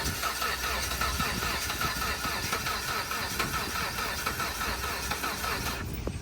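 A police auction car's engine being cranked but refusing to fire, with the fuel gauge reading below empty: a continuous loud starter churn throughout, then a sudden cutoff near the end.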